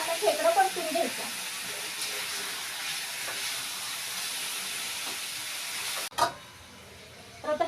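Crab curry with onion-garlic masala frying in oil in a pot gives a faint, steady sizzle and hiss, with a voice talking briefly at the start and a clatter near the end.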